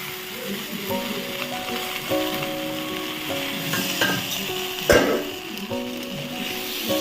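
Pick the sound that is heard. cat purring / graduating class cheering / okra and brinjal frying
okra and brinjal frying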